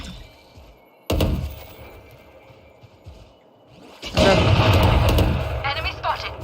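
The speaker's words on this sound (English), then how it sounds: "Flashbang." Flashbang grenade in the video game Valorant, a sudden loud thud followed a few seconds later by a bright, sustained burst and ringing noise, heard among game sounds with talking voices.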